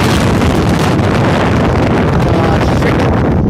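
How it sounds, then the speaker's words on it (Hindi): Strong wind blows across a mountain trek between Jalkhand near Naran and Kashmir, a loud, steady roar that buffets the microphone without a break. "मैं अभी खामोश होकर आपको हवा की आवाज़ सुनाता हूँ। बहुत तेज़ हवा चल रही"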